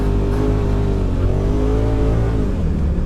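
A Polaris RZR side-by-side engine revs hard at full throttle, a loud, close, continuous droning roar whose pitch swells and dips slightly over a few seconds.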